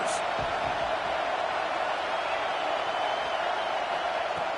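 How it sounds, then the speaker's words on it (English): Stadium crowd noise from College Football 26, a steady loud roar of fans holding at one level throughout with no breaks. "Listen to the crowd energy here in the early going."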